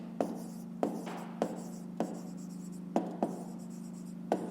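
Pen writing numbers on paper for a fifth-grade maths exercise: a series of short scratchy strokes with sharp taps between, close by, over a steady low hum, with no talking.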